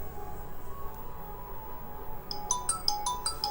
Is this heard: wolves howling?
no